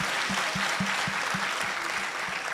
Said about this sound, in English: if you like it, clap well